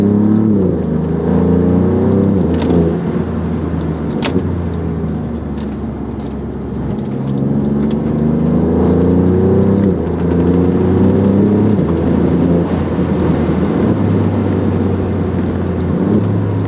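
A 2025 Alfa Romeo Giulia Quadrifoglio's Ferrari-derived twin-turbo V6 roars loudly and steadily, rising and falling as it revs through gears in a forest, with a deep throaty drone throughout.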